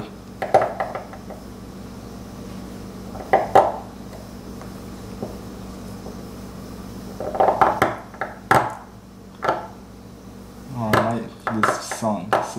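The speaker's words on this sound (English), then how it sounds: "stone like this one, the qingtian, is very crispy and it produces this chipping a lot, so you can hear the sound." A knife carving and chipping a crisp Qingtian stone for a Chinese name seal gives clusters of sharp, close scraping clicks and chips, separated by short pauses over a low, steady room hum.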